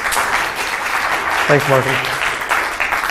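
Conference audience applauding a speaker at PyCon Singapore 2015, steady dense clapping throughout with a brief spoken thank-you partway through.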